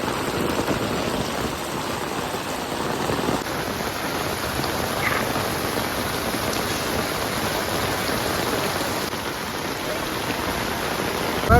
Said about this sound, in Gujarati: વરસાદ આવે છે અત્યારમાં ફૂલ.